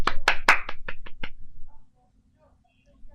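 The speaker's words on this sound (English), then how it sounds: "That's more applause than CM Punk got this week." A small audience gives a short burst of about seven loud, close hand claps that slow and stop, followed by near silence.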